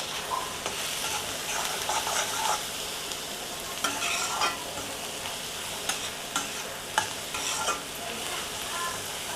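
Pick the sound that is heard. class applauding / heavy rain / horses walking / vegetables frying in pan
vegetables frying in pan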